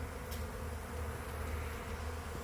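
Honeybees just removed from a carport ceiling buzz steadily in a box, a continuous dense drone close by with no pauses and no voices.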